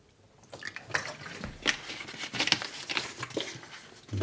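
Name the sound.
water pouring into a film developing tank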